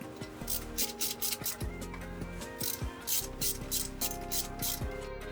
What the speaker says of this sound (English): Now torque down the alternator bracket.